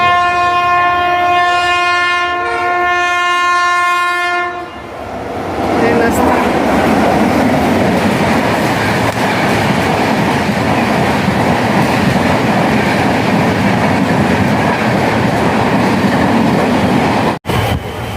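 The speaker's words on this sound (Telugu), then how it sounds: "వచ్చే ట్రైన్ అదే కావచ్చు" A train horn sounds in sustained harmonic blasts, then the loud rolling rumble and rattle of a train pulling into a station close by, steady for several seconds.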